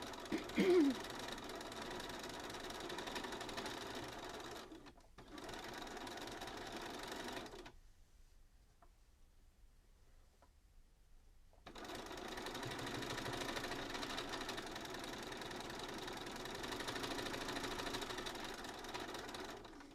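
A sewing machine with a walking foot, overdue for a service, stitches in a fast, steady whir. It runs in two long bursts separated by a few seconds of near-quiet, with a faint knock at the start.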